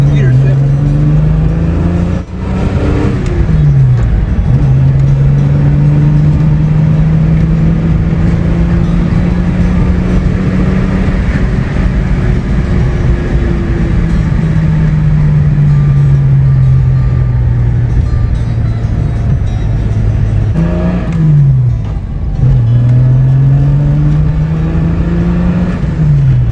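A vintage car's engine drones loudly and steadily in second gear during a ride in Kalnica, Slovakia, its pitch slowly rising and falling with brief dips as the revs change.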